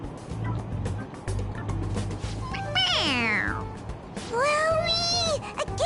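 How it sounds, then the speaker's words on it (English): A toy cat gives electronic meows when its head is pressed: two rising-and-falling mewing calls over a noisy, rumbling background. "It meows when you press on its head."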